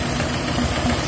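A Honda PCX 150 scooter from 2019, tested without a filter after CVT servicing, gives a brief loud burst of engine noise, dense and buzzing with no speech.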